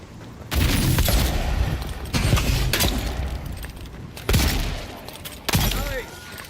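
Pistol shots in the Avowed game come in sharp, separate cracks scattered over several seconds, sitting in a noisy, busy game soundscape.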